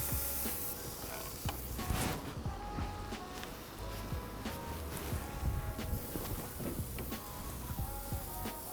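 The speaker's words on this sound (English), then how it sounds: "we are going to get like a black, deep char on these shallots in the pan" Shallots char in a dry pan without oil, giving off a steady soft sizzle and hiss with scattered small crackles and occasional scraping or clinking, heard close and without talking.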